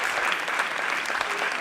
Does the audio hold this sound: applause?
yes